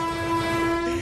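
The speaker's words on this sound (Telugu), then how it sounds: "ట్రైన్ కూడా దగ్గరికి వస్తుంది." An approaching train sounds a loud, sustained horn blast that stays strong and close throughout.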